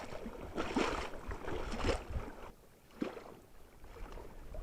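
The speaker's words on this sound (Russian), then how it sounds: "Опять уже поднялся ветерок." Wind gusts buffet the microphone at an outdoor fishing match on deep water at the end of the summer season, in a few loud rushing surges with quieter lulls between.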